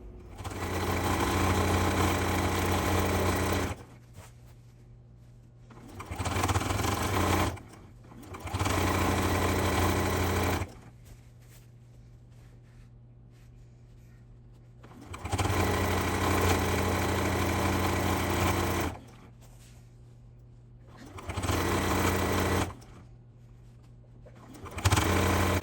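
A sewing machine stitches binding onto a scrappy quilted mat in long steady whirring runs of several seconds each, separated by quiet pauses, close and fairly loud with no talk.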